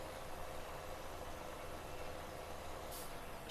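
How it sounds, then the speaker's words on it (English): A tractor engine in Farming Simulator 17 pulls a seed drill, giving a steady, droning hum with a constant rumble, unchanging and alone. "I think this tractor pulls this seeder fairly with ease."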